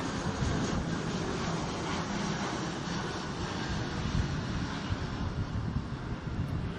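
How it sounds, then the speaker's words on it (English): A military aircraft flies over a guided-missile destroyer's commissioning ceremony, heard as a broad, steady jet roar lasting throughout, partly buffeted by wind on the microphone. "Mrs. Secretary, this flyover is for you."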